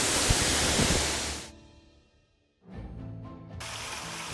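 The three-tier Leunsalama waterfall on Wawonii gives a loud, broad rushing roar. It cuts to near quiet for about two seconds, then resumes and swells back to full force.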